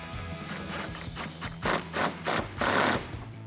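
A band clamp on a Silverado or Sierra 5.3L cold air intake is tightened with an 8mm socket ratchet, giving a series of short rasping clicks and scrapes that grow into several louder bursts near the end.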